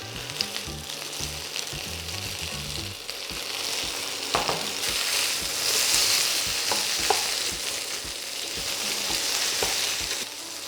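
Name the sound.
potatoes frying in a pan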